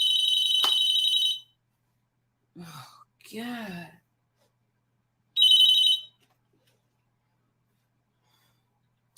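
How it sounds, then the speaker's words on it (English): A telephone rings in two shrill electronic bursts, close and loud, with a startled voice speaking briefly in the gap between them. "Why is always a phone ringing?"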